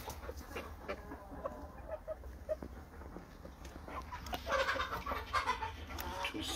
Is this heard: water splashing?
no